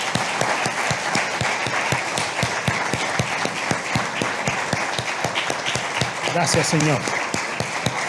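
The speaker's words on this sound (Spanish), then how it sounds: "glorifiquemos al Señor con un fuerte aplauso" A church congregation claps loudly in an even, continuous burst after a sermon, the applause sustained throughout while a voice briefly speaks over it near the end.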